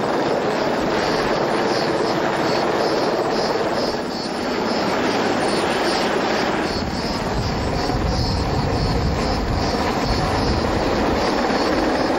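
A steady, loud roar of rotor and engine noise from a helicopter runs throughout, broadband and unbroken, as it hovers nearby raising clouds of dust during a rhinoceros transfer.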